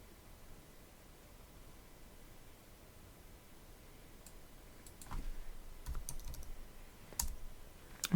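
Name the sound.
typing on a Mac computer keyboard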